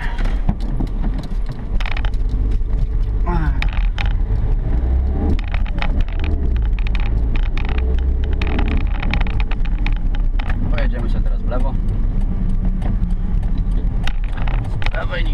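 A car's engine rumbles low and steady as it reverses out, close and continuous, with a voice talking over it at times.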